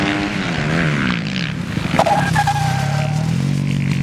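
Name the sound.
motorcycle doing a stoppie and drift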